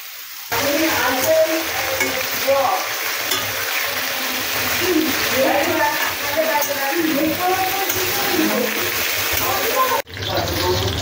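Chopped onions hitting hot oil already holding whole spices (garam masala, dried red chilli, bay leaf, cardamom, cinnamon, cumin) for a mutton dish, setting off a loud, steady close sizzle that runs nearly unbroken, with voices talking underneath.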